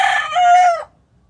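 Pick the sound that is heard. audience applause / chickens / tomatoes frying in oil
chickens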